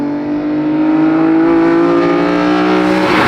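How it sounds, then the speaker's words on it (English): An S54-swapped BMW E30 fitted with individual throttle bodies and an airbox revs hard, its loud, close engine note holding high and rising slightly across the stretch, with no voices over it. "So the induction noise with the ITBs and the airbox is like pretty fun."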